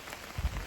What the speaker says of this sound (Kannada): ಮಳೆ ಹೋಯ್ತಾ ಇದ್ದು.